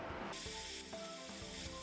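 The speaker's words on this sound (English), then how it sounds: "I got started on painting the engine bay" A paint spray gun hisses steadily while painting the freshly blasted engine bay of a BMW E30 325i Sport under restoration, a close, continuous spray with brief pauses and shifts as the trigger is worked.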